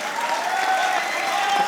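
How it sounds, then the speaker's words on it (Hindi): An audience clapping together, a dense, steady burst of applause filling the room at close range throughout. "बजा सकते हो तालियां, बजा लो यार।"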